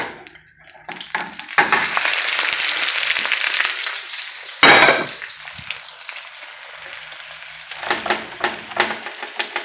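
Spanish tortilla frying in oil in a pan gives a loud, close, steady sizzle with a sudden hissing burst partway through, then quieter crackling pops toward the end.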